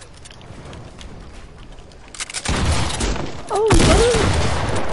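Gunfire from a PS4 video game erupts in a dense rattling burst that swells louder midway and keeps going, with a person exclaiming over the noise.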